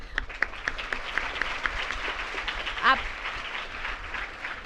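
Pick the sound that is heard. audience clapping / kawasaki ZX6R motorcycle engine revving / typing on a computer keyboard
audience clapping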